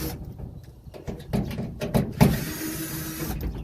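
A power drill drives Torx screws while a Toyota Tundra tailgate latch handle is replaced, heard as a close whirring motor rising in pitch over a few seconds with brief clicks and clunks from the tailgate.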